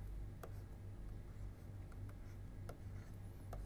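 Chalk or marker writing on a board during a convex optimization lecture, with soft scratchy strokes and small taps over a low hum of room noise, quiet and intermittent.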